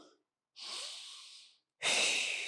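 Two audible breaths with a short pause between, a steady exhale followed by a stronger inhale or exhale, close and alone, during a Pilates reformer exercise.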